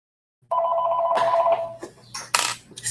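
A telephone rings indoors with a bright electronic double tone, followed by handling clatter and a few knocks as the receiver is picked up.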